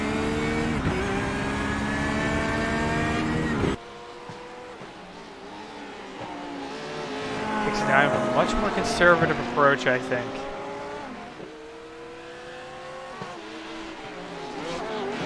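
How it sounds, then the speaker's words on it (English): GT3 race cars in a sim racing game at Long Beach roar and rev continuously, with engine tones shifting through gears and tires squealing briefly, while a commentator talks over the racing. "Very evenly matched, these 2 GT3 cars."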